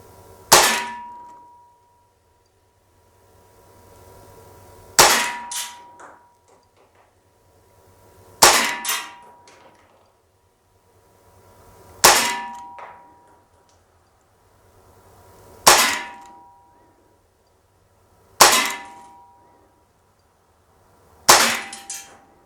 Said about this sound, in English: let's see if we can get some 10 rounds on target fairly accurately anyways